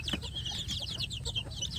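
A brood of kampung chicks chirps continuously as they eat, with many short, high peeps overlapping at close range over faint background noise.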